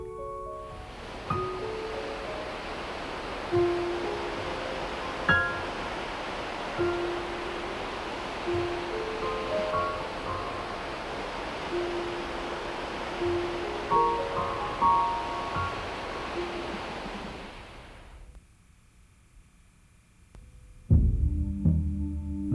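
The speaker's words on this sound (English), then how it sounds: "Jagged cliffs and sandy beaches meet the waters of the Pacific Ocean" Pacific Ocean waves washing onto a sandy beach below jagged cliffs, a steady surf wash with periodic swells, fading out before a short burst of other noise at the end.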